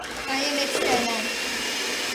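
An electric mixer whirs steadily as brown sugar is beaten into oatmeal raisin cookie batter, a constant buzzing hum at close range with a slight rise midway, under a voice.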